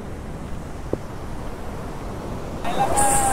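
Fast-flowing stream water at a crossing gives a steady broadband rush with a brief knock near the middle; the rushing grows louder and fuller in the final second.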